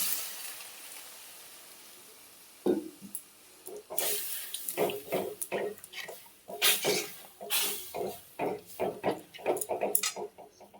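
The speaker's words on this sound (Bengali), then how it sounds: "এবার আমি এতে দুধ দিয়ে দেবো" Milk poured into fried sago in a pan while cooking payesh, a quiet stretch and then a sudden hiss, followed by repeated bubbling, sizzling bursts and splashes that rise and fall near the microphone.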